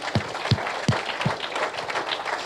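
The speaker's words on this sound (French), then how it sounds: "Clap for Jesus." Congregation at a church service clapping for Jesus, four crisp, evenly spaced claps in a steady rhythm, moderately distant, over a soft murmur of room noise.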